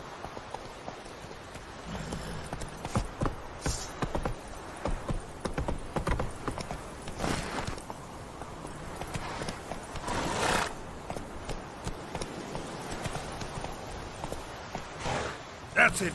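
Roach the horse in The Witcher 3 trotting, with quick hoof clip-clops over a continuous background of ambient game sound and occasional snorts, moderately close, under a voice talking.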